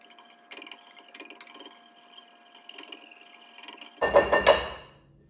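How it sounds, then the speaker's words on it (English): Moi moi bean flour batter stirred in a bowl after a little cooking oil is added, heard as soft faint scraping that ends in a short, loud burst of clattering spoon strikes against the bowl. "And we stir."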